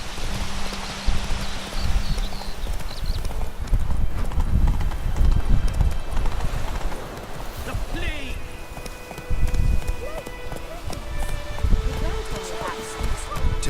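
Roach, the horse in The Witcher 3, gallops along a path, her hooves clip-clopping in a quick continuous rhythm, close and clear, with someone talking over them.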